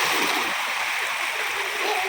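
Water rushing and splashing along a village stream during heavy rain, a steady, close, broadband wash that holds unbroken for about two seconds with no break in the flow.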